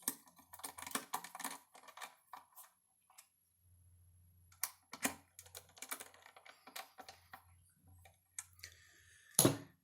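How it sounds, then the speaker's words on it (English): Two captive Phillips head screws are tightened on a WPAN card in a CGR1240 unit. Quiet, close clicks and small scraping ticks come in clusters, with short pauses and a sharper knock at the end. "I'm going to tighten the 2 captive Phillips head screws"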